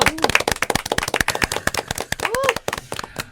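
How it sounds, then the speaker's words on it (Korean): Audience clapping at a pilgrims' sharing event, sharp individual claps in an uneven rapid rhythm, close and fairly sparse, with a voice speaking over them. "박수."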